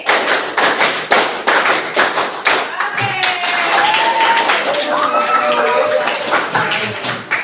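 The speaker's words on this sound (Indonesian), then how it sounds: "Nah, sekali lagi, tepuk 5. Tepuk 3. Tepuk 5. Tepuk 5 2 kali." A classroom of students claps in short bursts of patterned beats, with a loud continuous cheer-like swell through the middle before more rhythmic clapping.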